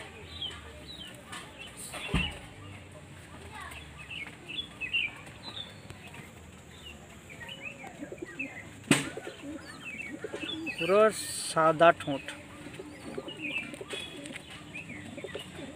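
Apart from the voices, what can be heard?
white female pigeon cooing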